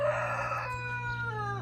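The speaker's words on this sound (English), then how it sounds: "rooster's wearing me out" A farm rooster crows once up close, a loud drawn-out call that trails off in a falling tail against a low steady background hum.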